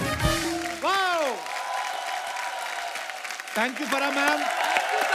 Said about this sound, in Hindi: एक बार फरा मैम और रवीना जी के लिए जोरदार तालियां।